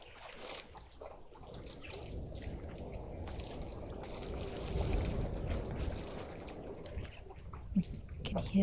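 Elephants splashing and slurping water while drinking at a waterhole, irregular watery sloshes and trickles at moderate distance, with a person speaking and wind noise over them.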